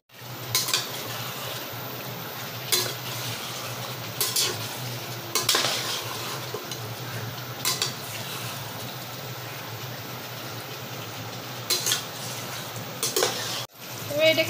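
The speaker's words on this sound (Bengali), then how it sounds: "এবার এটাকে ভালো করে কষাবো যতক্ষণ না তেল ছেড়ে দিচ্ছে।" Mutton with turmeric, Kashmiri red chilli powder and sugar stir-fried in a pot for Bengali mutton kasha, a low constant sizzle punctuated by repeated loud metal scrapes and clanks of the spoon against the pot, no speech.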